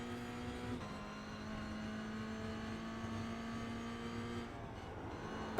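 A Toyota GR86 engine in the iRacing simulator drones at steady revs on the Imola circuit, a sustained buzzy tone that steps up in pitch once partway through; moderately loud, steady and without voices.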